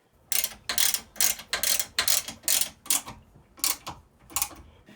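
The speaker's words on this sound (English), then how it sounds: "I'm going to take a round file to it and do a couple real light swipes" Round file hand-sharpening a chainsaw chain with light strokes, giving about nine rhythmic, close rasping swipes, each a bright scrape separated by short pauses.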